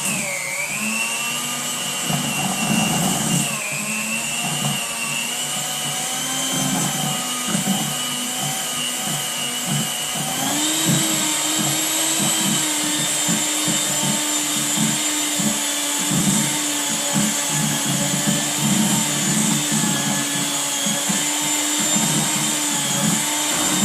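An electric hand mixer whirs loudly and continuously, its motor pitch wavering as the beaters churn through thick cream cheese batter, with no talking.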